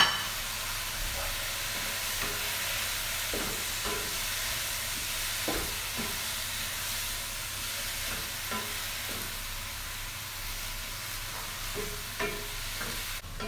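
Cabbage, greens and spring onions frying together in a pot for vegetable soup, stirred steadily: a constant soft sizzle with repeated light scraping knocks at an uneven rhythm, close by and alone.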